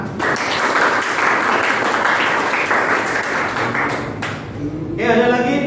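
A lecture audience applauds loudly and steadily at the close of a computer-networking business presentation; dense clapping fills the room for several seconds before thinning as a voice begins.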